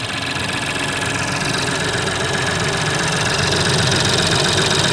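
A car engine idles steadily at close range under its open bonnet, a continuous even rumble with light mechanical vibration throughout and no talk.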